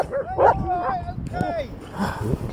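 Small dog on a beach giving several quick yipping barks and whimpers in short bursts, close and fairly loud, with people talking over and between the sounds.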